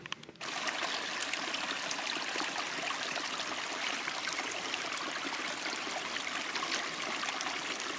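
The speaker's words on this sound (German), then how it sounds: "Hier noch ein Bach," A small brook in a damaged landscape, where part of the flow runs through a pipe, gives a steady, close rush of trickling, burbling water that stays even and uninterrupted throughout.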